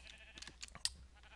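Minecraft sheep bleating softly in short repeated calls, a synthetic game-like bleat with faint chirpy effects around it.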